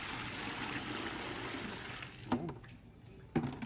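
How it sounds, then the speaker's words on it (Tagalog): Water is poured down a freshly unclogged drain, a steady rushing, trickling flow at close range that thins out near the end, broken by a couple of brief knocks. "Tatabuhusan natin ng tubig"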